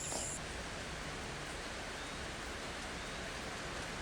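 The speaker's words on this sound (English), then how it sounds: "When we woke up, it was pouring rain, which we expected as we came inland." Heavy rain pours down inland at La Fortuna, Costa Rica, near Arenal Volcano, a dense, steady hiss that fills the whole stretch without pause.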